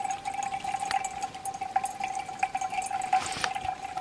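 Water running steadily into containers at a spring in the Vercors, a close continuous trickling flow with a constant gurgling tone and small splashes, no speech.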